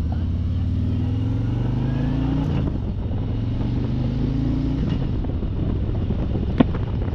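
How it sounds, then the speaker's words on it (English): A 2021 Harley-Davidson Road Glide Special rumbles steadily on a ride, with low engine tones that rise and shift as it accelerates through gears, under constant wind buffeting at the microphone. "We are live for a test ride review on 2021 Road Glide Special."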